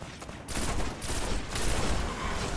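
Rapid weapon gunfire in Destiny, a dense continuous burst of shots lasting a couple of seconds, loud and close.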